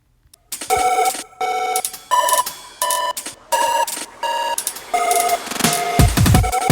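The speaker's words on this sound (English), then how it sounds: "There's a little phone ring in there." A synthetic telephone ringtone sample in a music track, sounding in six or seven bright, evenly spaced chirping bursts that ring out loud and clear with no one talking.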